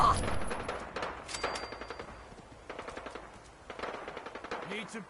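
Rapid automatic gunfire bursts in the video game Fallout 4, loud and dense with repeated volleys across the whole stretch, with voices shouting over the shooting.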